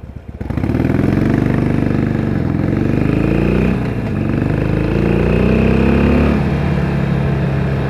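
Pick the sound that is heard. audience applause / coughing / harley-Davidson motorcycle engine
harley-Davidson motorcycle engine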